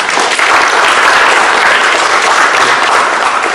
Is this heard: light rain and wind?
no